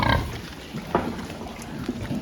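A sow on a farm during a vaccination round, giving a short grunt-squeal burst at the start and then quieter snorts and shuffling against a steady barn hum.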